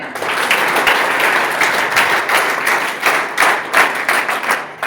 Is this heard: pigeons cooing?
no